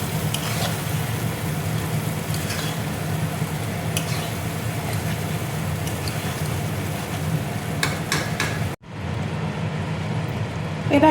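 Pointed gourd (potol) frying in a pan, giving a steady broad sizzle that holds evenly for several seconds before cutting off abruptly, leaving near silence.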